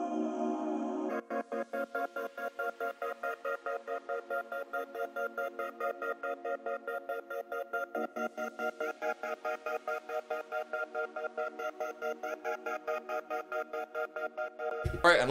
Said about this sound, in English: Now with the gross beat gate on it, it sounds like this.